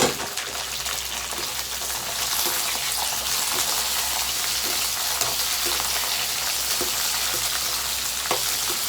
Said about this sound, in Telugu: తాలింపు వేగింది కదా, కోసి పెట్టుకుని బెండకాయ ముక్కలు కూడా వేసుకున్నాను.